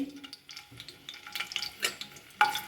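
Onion slices, cut fairly thick, hit hot oil for crispy fried onions, giving a soft crackling sizzle with brief stirring scrapes and a sharper burst near the end.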